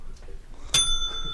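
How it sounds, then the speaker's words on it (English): A bell rings once, bright and sustained with a long ringing decay, following soft talk in a room. "we ring the bell"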